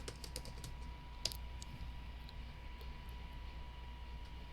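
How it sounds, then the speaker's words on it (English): Someone types a short phrase on a computer keyboard while making paper crafts from leftover scraps, producing a quick run of light, close key clicks over a low steady background hum. "I'm gonna just type Merry Christmas"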